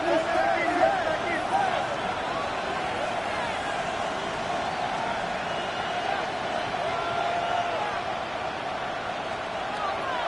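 A stadium crowd in a Madden football video game roars steadily throughout, a dense, constant wash of cheering with no pauses.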